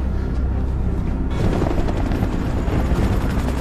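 Helicopter in a prison-break action film, a loud, steady rotor drone with low thumping that swells midway and carries on without talk.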